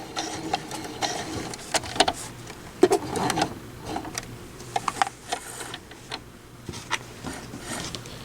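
A sewing machine stitches scrappy Sweet Pea quilt block pieces in short, uneven bursts of mechanical whirring and ticking, close and moderately loud, with no voices.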